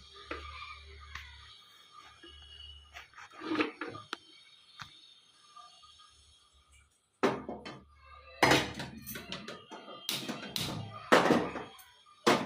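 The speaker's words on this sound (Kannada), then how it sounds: "ಈ ಗ್ಯಾಸ್ ಹಚ್ಕೊಂಡು ಬಾಣಲೆ ಇಟ್ಕೊಂಡಿದ್ದೀನಿ" A frying pan is set down on a lit gas stove in a home kitchen, producing several scattered metallic clunks and knocks between quieter pauses, with a low burner hum in stretches.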